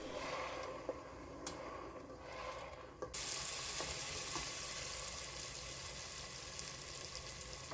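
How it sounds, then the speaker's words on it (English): Turkey pieces fry with a pepper mix in hot oil, a soft, continuous sizzle that grows denser and brighter partway through, with faint scraping. "is to add my pepper mix. I'll fry this for about 25 to 30 minutes"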